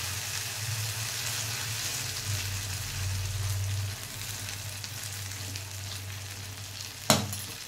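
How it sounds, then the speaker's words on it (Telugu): Small uttapams frying in oil on a pan give off a steady, close crackling sizzle with a low hum beneath, and a single sharp clink near the end, with no voices. "చిన్న ఓతప్పలు వేసుకున్నాం"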